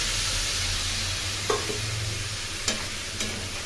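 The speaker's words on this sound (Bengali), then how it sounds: "ভেজে নিয়ে সামান্য পরিমাণ জল দিয়ে আলু এবং ফুলকপিগুলো সিদ্ধ করে নেব। এর মধ্যে সামান্য জল দিয়ে দিলাম।" Potatoes and cauliflower frying in a pan for a Bengali cauliflower curry, with water just poured in, give a steady close hiss of sizzling and bubbling, broken by a few small clinks and scrapes of stirring.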